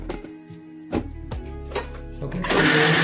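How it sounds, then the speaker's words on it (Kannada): Dosa batter with poha grinds in a kitchen mixer grinder: a few knocks and clunks, then the motor bursts into a loud, harsh whir near the end. "ಮಿಕ್ಸಿ ಗ್ರೈಂಡ್ ಹಾಕ್ಬಿಟ್ಟು ಚೆನ್ನಾಗಿ ರುಬ್ಬಿ"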